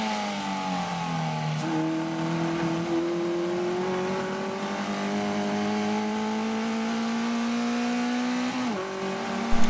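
Race cars at Donington Park drive into the chicane, one engine note rising and falling with gear changes, heard from nearby trackside and steady throughout with a brief louder burst at the end.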